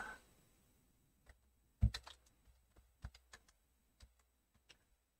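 Typing on a computer keyboard, a scattered run of quick key clicks with one louder tap near the start, close and fairly quiet, with no talk.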